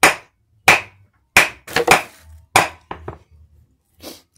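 A shoe is tapped sharply several times to press paper into the toe, giving loud, crisp knocks in an irregular rhythm with short pauses and a few softer taps, heard alone and close.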